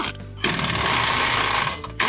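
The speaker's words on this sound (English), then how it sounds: "Air tools make it easy" An air impact wrench hammers at the bottom nut of a shock absorber on an R56 Mini Cooper S, a loud, steady, rattling burst lasting over a second, close by with no talk.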